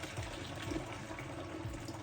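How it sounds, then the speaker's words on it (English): Very hot water is poured and measured out into a jug for a double batch of mango and habanero mead, giving a steady, soft trickling fill with no talking. "I'm going to measure out 1 litre of said hot water, which is very hot, so be careful"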